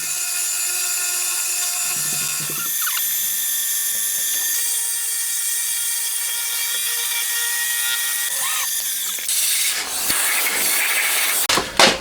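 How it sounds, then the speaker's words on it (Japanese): A drill bores a 19 mm spark plug hole in a freshly cast cylinder head for a handmade 125cc four-cylinder, 16-valve engine, a steady high whine running nearly throughout, with brief pauses and a few sharp knocks near the end. "そしたらプラグホール、大きい穴ですね、開けてきます。"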